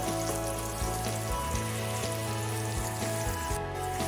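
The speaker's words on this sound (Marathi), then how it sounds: "इथे आपला कांदा मस्तपैकी शिजलेला आहे" Chopped onion sizzles and fries steadily in a pan for a green pea curry, a continuous close crackle with no talk over it.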